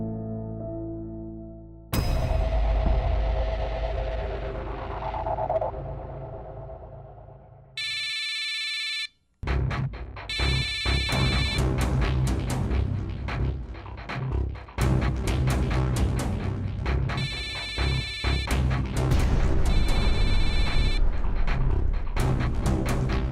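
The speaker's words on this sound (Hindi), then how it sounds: "ये कौन तुम्हें बार बार फोन कर रहा है?" A telephone ringtone sounds repeatedly in a home scene from a Hindi crime drama, its electronic tone recurring in bursts amid background music and dramatic stings.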